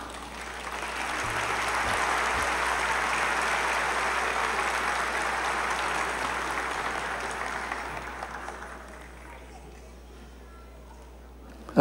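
A church congregation applauds in praise, a dense, sustained wash of clapping that holds for several seconds and then fades out toward the end.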